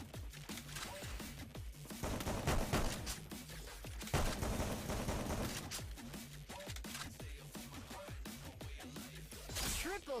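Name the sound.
gunfire in Free Fire video game, Max 7 gun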